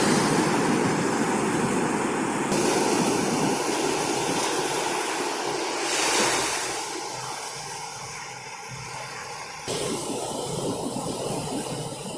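Calm sea waves wash steadily onto a beach under an overcast sky, a broad continuous hiss and roll that surges and eases, with no voices.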